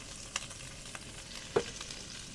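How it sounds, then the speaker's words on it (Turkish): Hamburger patties seasoned with salt and chili flakes sizzle in a hot pan alongside caramelized onions and peppers, a faint steady frying hiss broken by a few sharp clicks and taps, with no voices. "köfte tavayla buluşuyor. Sıcak tavayla buluşması burada çok önemli."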